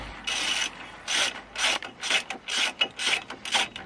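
Repeated rasping, ratcheting scrapes as wheel hub bolts are loosened using a jack handle as a cheater bar, about nine short strokes in a quickening rhythm, close by with no talk.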